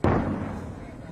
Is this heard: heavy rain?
no